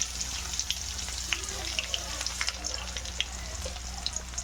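Onions sizzle and crackle steadily in hot oil in a pan for tomato rice, close and continuous with scattered small pops and the occasional stir.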